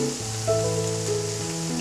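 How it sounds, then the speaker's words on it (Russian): Onions fry in a small kazan for an Uzbek osso buco plov, giving a steady close sizzle that runs throughout with a sustained tonal hum or music underneath. "я хочу все-таки хорошо обжарить лук"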